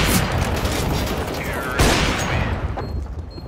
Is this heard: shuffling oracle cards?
no